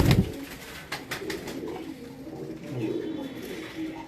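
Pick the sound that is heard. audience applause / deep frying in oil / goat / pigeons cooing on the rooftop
pigeons cooing on the rooftop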